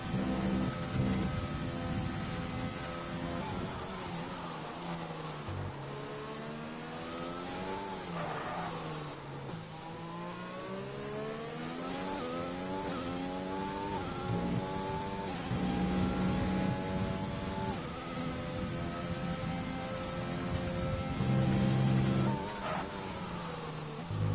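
Formula 1 car engines from the F1 2020 game race through the British Grand Prix's final lap, their high-pitched whine rising and falling steadily through gear changes, with several cars audible at once and loud throughout.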